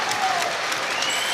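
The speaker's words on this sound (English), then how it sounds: "And the crowd on their feet applauding" A rugby stadium crowd standing and clapping before a women's England versus New Zealand semi-final, a continuous dense roar of applause filling the short stretch.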